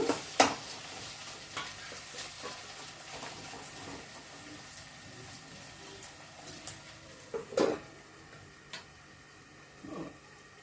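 Prawns frying in a masala gravy in a pan give off a steady low sizzle, with occasional stirring clicks and scrapes standing out over it. No one speaks.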